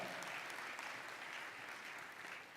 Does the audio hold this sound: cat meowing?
no